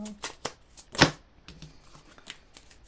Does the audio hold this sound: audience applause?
no